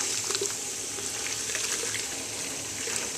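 Water poured onto ground coffee in a large batch for cold brew, a steady close splashing and gurgling stream running throughout without pause.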